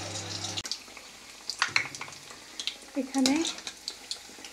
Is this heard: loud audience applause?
no